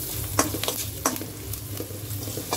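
Onions and turmeric fry in a pan as a spoon stirs them, giving a steady close sizzle broken by two sharp scraping knocks of the spoon and a few softer strokes.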